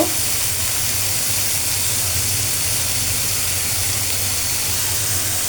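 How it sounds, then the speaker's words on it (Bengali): Ground spices with turmeric, chili and coriander powder frying for a Bengali tengra fish bhuna, a loud, steady, unbroken hiss and sizzle close by with no talking. "মশলাটাকে ভালো করে কষাই নিব"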